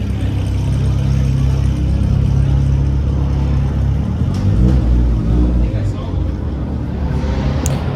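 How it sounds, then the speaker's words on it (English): Engines rev and roar steadily as cars at a Nissan car meet pull hard out of a back alley at night, loud and close, with a continuous drone and faint crowd voices underneath. "Then you just got a bunch of people doing pulls, leaving in this back alley over here."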